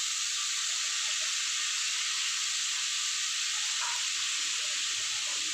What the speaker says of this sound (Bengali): এবার আমি এখানে একটু ফোড়ন দিয়ে দেবো।